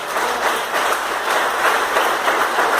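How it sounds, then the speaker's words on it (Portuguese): Loud, dense applause from a congregation in church, a continuous roar of many hands clapping close by with no speech. "Então vamos aplaudir bem forte ao Senhor."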